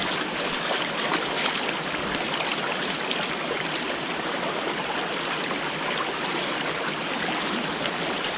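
Steady rushing and splashing of water fills the scene as trapped beavers are washed off, a continuous close, broadband wash with no talking.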